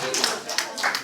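A lecture audience gives a brief round of clapping, with short bursts of hand claps mixed with a voice talking, close and moderately loud.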